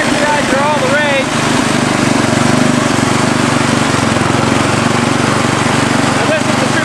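A Murray lawn tractor engine runs in gear while driving over packed snow, a loud, steady droning motor sustained for the whole stretch, with faint voice-like sounds early on.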